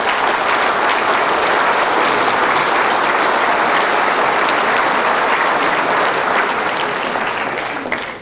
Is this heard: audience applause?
yes